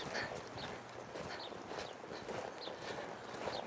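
Hooves of a horse loping around barrels thud in a steady, rhythmic clip-clop, moderately close and fairly soft, with no one speaking.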